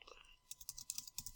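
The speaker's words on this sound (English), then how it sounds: "So we'll go ahead and type that in." Quick bursts of keystrokes on a computer keyboard as a password is typed, faint and close, about a dozen taps in an uneven rhythm.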